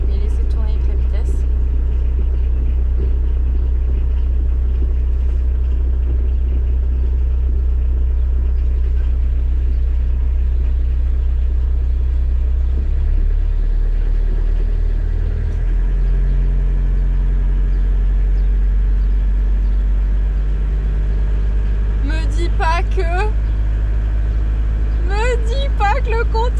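Citroën BX engine held in gear against the brakes, a loud steady low rumble that shifts pitch partway through, with faint voices and a few sharp squeaks toward the end.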